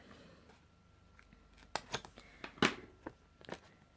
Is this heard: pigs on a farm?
no